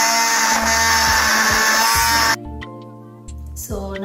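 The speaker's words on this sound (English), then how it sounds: "So what I'm going to do is use my hand blender to blend it all." A hand blender purees a soft cooked curry gravy for butter chicken, whirring loudly and steadily for about two seconds before cutting off, followed by quieter kitchen sounds and brief noise at the end.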